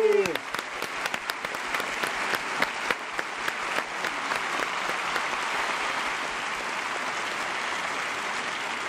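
A concert audience applauds and cheers for a Mexican blues band, a dense, steady wash of clapping that lasts throughout, with a few sharper claps standing out near the start and a brief voice at the opening.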